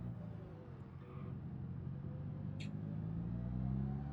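A car engine in BeamNG drives steadily at a loud, low drone with slowly rising pitch, like sustained acceleration, with a brief high chirp partway through.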